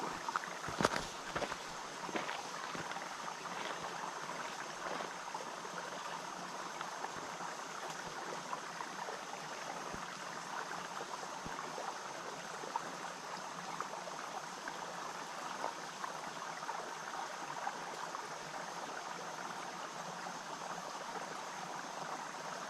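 Water flows steadily in a small stream beside a hiking trail. It makes a continuous close rushing and burbling, and a few knocks and footsteps are heard near the start.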